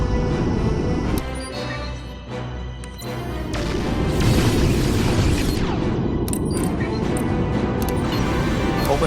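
Weapon hits and explosions from the Star Trek Legacy space combat game: deep continuous booming impacts with crackling bursts, loud and sustained throughout, with no voices.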